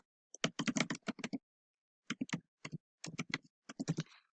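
Quick bursts of typing on a computer keyboard come in three separate runs of clicking keystrokes, close up, with short pauses between them.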